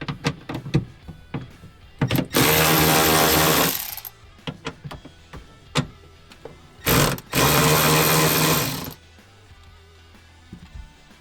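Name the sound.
power tool loosening bolts on Bronco cargo MOLLE bracket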